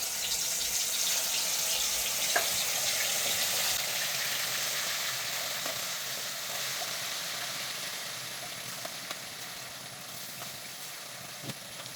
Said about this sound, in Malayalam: നമുക്ക് ഇനി ചിക്കൻ ഒന്ന് നന്നായിട്ടൊന്ന് ഫ്രൈ ആയിട്ട് വരണം